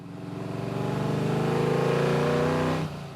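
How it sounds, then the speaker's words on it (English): Throaty rumble of a V8 engine in an E-Type Jaguar classic car, a sustained, steady drone that swells slightly before cutting off, close and loud with no voices. "There's nothing like the rumble of a V8."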